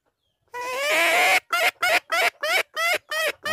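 Chickens clucking loudly and close in reply to a handmade leafy-branch call, one long drawn-out call followed by a quick series of short, evenly spaced clucks.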